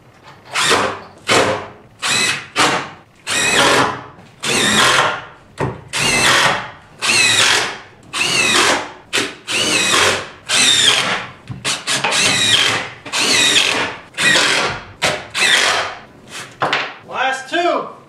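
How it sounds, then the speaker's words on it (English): A power drill backs screws out while a kitchen countertop goes in during a truck camper build: a long run of short, loud whirring bursts close by, one after another with brief gaps, ending in a quick squealing chirp. "Sherman's taking the screws out for me ahead of time here."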